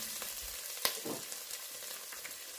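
Garlic sizzles in a hot pan while being stirred, a quiet steady frying hiss broken by a sharp utensil clink and soft scraping, with no talk.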